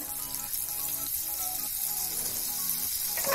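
Butter melting into hot refined oil in a pan for dhaba-style palak paneer gives a soft, continuous close sizzle with a faint hiss that rises a little toward the end, and no one speaks.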